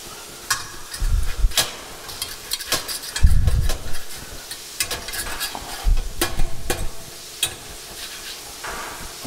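Veal saltimbocca sizzles in a pan while the pieces are turned and pried loose where they have stuck, with sharp clicking scrapes and low thumps of the utensil against the pan over a steady frying hiss.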